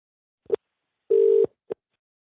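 Telephone ringing tone on an unanswered call placed during a licensing board meeting: a short beep, a longer steady tone of about a third of a second, then another short beep, clear and alone with no talk.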